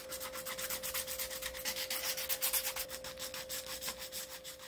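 A jerkbait fishing lure body gets a light hand sanding in steady, rhythmic back-and-forth strokes, close and fairly quiet, over a constant faint hum.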